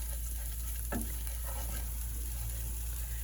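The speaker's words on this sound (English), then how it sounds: "we're going to saute that for a minute to release all the fragrances in the spices" Spices with cayenne pepper sauté in a skillet, a steady soft sizzle running the whole time with a brief stir scrape near the start.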